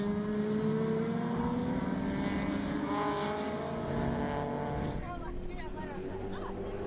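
Touring race cars of the Super Tin Tops class thunder down the main straight at Winton Motor Raceway, a loud, layered engine roar with rising and falling pitch as several cars pass close by in turn.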